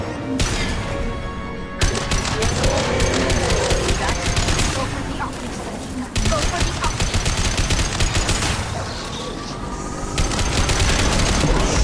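Gunfire in the video game Mass Effect 2: loud, rapid bursts of automatic shots in long sustained volleys with brief pauses between them.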